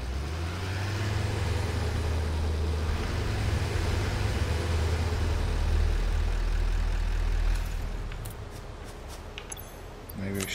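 Tractor engine idling in the video game Satisfactory, a steady low rumble that holds loud for about eight seconds, then eases off near the end.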